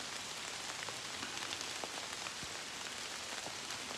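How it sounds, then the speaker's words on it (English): Steady rain patters all around during a dog walk outdoors, a dense hiss of drops with occasional closer splats, no voices. "enjoying the rain."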